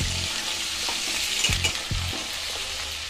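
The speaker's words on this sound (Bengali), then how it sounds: "এবার সেটাকে আমি একটু ভেজে নেব আলুর সাথে।" Chopped onion frying with potatoes in a pan for ghugni, a steady soft sizzle with a few sharp scrapes and clinks of a stirring spoon against the pan.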